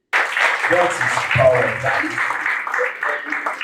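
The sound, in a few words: audience applause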